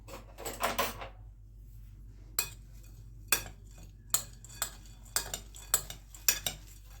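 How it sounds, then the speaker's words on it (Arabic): Spoon stirring harissa filling of almonds, hazelnuts and other ingredients in a bowl, a run of sharp separate clinks and scrapes against the dish, close and isolated, after a brief burst of rustling at the start. "ونقلب بقى كل المكونات دي مع بعض. اجيب معلقه بس اقلب بيها"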